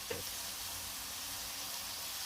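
Frying in a pan for Telugu thotakura (amaranth leaf) curry gives a soft, even sizzling hiss, faint and continuous through the short stretch with one small tap near the start.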